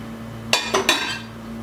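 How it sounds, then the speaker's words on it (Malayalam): A pot lid is lifted and a spoon stirs poha (flattened rice upma) in the pot: three quick metallic clinks close together, then quiet with a steady low hum. "ഇനി ഇത് തുറന്ന് നമുക്കൊന്ന് ഇളക്കി കൊടുക്കാം."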